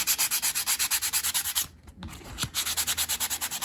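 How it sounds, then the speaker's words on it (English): Small Dollar Tree sander rubbing paint off a card, loud close rhythmic scraping strokes in quick even succession, pausing briefly in the middle before resuming at the same pace. "you can just sand those off very easy"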